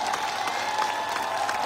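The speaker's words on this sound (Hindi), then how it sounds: "जोरदार जोशीली तालियां, जोरदार जोशीली तालियां" Sustained audience applause at an AWPL business event in Bihar, with a dense wash of steady clapping from a large crowd throughout and no break.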